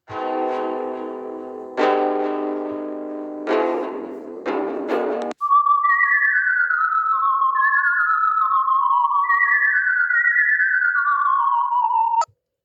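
The Tunner character from the Sprunki game, swapped with Torpol, gives a whistle-like melody of smooth, clear sliding tones repeating in a bouncy pattern after a run of harsher, buzzy synth chords.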